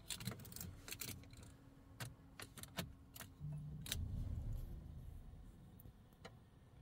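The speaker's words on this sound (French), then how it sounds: "Je vais mettre le contact." A Citroën C5 Exclusive 2007 with 269,000 km being switched on with its key: faint jangling of keys and a series of clicks and ticks, followed by a low hum as the ignition comes on.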